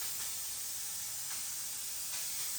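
Hot steam at 350 Fahrenheit jetting from a cleaning wand onto tiled walls and grout lines, producing an unbroken, close, rushing hiss that swells a few times.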